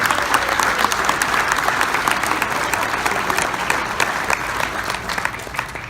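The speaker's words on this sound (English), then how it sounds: "Round of applause for our 15 years." A ceremony audience applauds long-serving honorees, steady dense clapping filling the room throughout at a fairly loud, even level.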